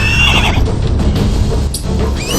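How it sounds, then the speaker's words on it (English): A creature in the Starbound video game gives a loud, close horse-like whinny and neigh, a wavering cry that carries through the short clip with a brief pause partway. "This guy sounds like a horse."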